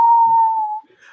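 Someone whistles a single loud, steady note that holds for nearly a second and then stops, followed by faint, brief background sounds.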